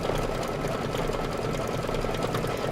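An embroidery sewing machine runs steadily through a decorative stitch, its needle whirring in a fast, even buzz that holds at a moderate level without pause and with no voices over it.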